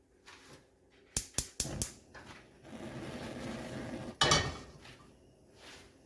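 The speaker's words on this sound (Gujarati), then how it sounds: "તો હવે આપણે તપેલીને ગેસ પર મૂકી દઈએ" A metal pot of water for salted peanuts set down on a gas stove: a quick run of sharp metallic knocks, a soft hiss of the burner, then another clank, close and fairly quiet.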